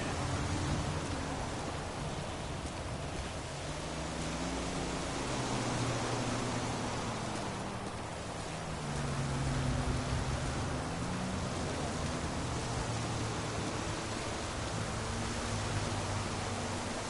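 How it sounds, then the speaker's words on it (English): Heavy rain pours down in GTA V, a dense, constant hiss of a downpour that stays loud and even throughout, with a low rumbling engine-like tone drifting underneath. "Oh, we're into heavy downpours now."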